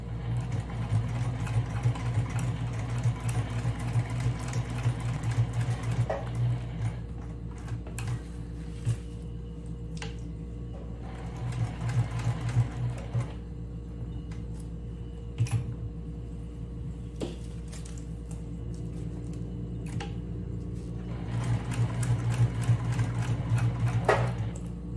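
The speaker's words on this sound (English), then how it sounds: "I'm here in the sewing machine, and I'm going to start to sew the Velcro onto the lining" A sewing machine stitches Velcro onto the lining of a lunch bag, running in several bursts of rapid mechanical chatter separated by pauses, with a steady low motor hum underneath.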